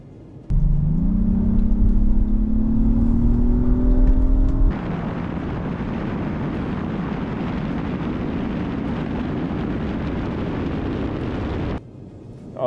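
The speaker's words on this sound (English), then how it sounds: "My first time ever having an Audi Q7 on the drag strip." An Audi Q7 launching down a drag strip, its engine note rising through a gear before a shift drops it into a loud, sustained roar of hard acceleration that cuts off near the end.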